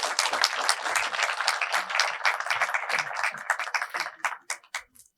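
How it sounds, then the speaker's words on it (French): A studio audience applauds during a French cooking talk show with a chef, dense clapping that holds steady for about four seconds and then breaks into a few scattered final claps. "C'est important, on peut applaudir encore"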